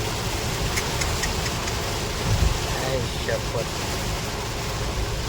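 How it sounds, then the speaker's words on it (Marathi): Steady, dense heavy monsoon rain noise fills the whole stretch near Marleshwar temple, with a low rumble and a brief louder thump midway, like heavy rain drumming on a vehicle. "पाऊस बा खतरनाक खतरनाक"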